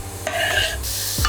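Chopped onion dropped into hot olive oil in a pan for soup, giving a loud, close, steady sizzle with a stirring scrape.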